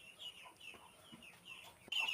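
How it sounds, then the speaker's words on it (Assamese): Ducks in their shed give soft, quacking calls at low volume that repeat off and on, followed by a louder short burst at the end. "হাঁহকেইটাই টেক টেককৈ মাত লগাই আছে"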